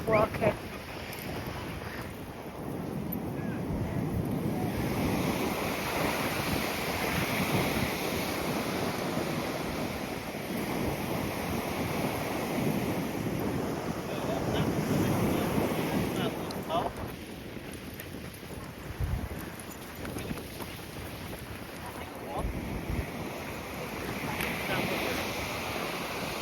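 Surf and gusting wind on Mablethorpe beach in England form a steady, broad roar, with wind buffeting the microphone and louder swells rising and falling throughout.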